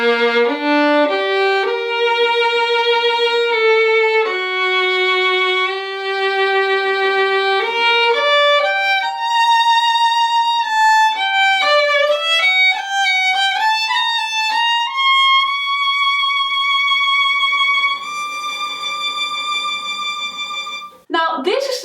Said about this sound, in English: I bought a set of Pilastro Eudoxa strings and put it on my violin. That sounds like this.